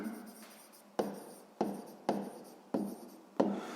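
A pen writes in a school notebook during a sixth-grade maths exercise, six sharp scratching strokes spaced in a steady rhythm, close and quiet in an otherwise still room.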